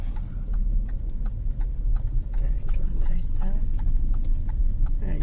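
A car turn signal ticks in a quick, steady rhythm inside the cabin during a driving lesson, faint beneath low engine rumble and a voice speaking.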